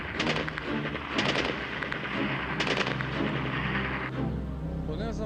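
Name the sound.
gunfire in the distance, Tetovo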